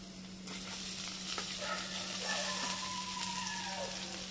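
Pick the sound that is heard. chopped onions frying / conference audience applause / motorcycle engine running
chopped onions frying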